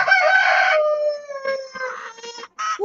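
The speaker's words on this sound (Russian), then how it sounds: "И курочка, которая меня перебивает, сядет наконец-то в гнездышко" A hen at her nest, about to lay, vocalizes close by in a drawn-out, harmonic call followed by a few shorter broken clucks and squawks.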